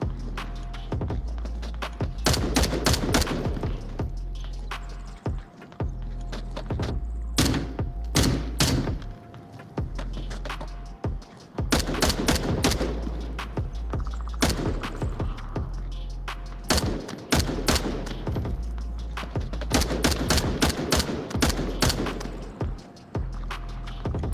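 Single-fire gunshots ring out in a VR shooter played with a ProTubeVR MagTube haptic rig, loud, sharp reports fired in separate bursts of rapid shots over a steady low game rumble, with short gaps between volleys.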